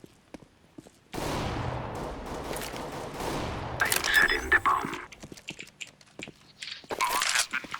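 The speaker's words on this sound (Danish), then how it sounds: "så er det bare fucking skud" Gunfire from Counter-Strike: Global Offensive arrives as a burst of rapid shots followed by scattered sharp cracks and clicks, fairly loud against a quiet game background.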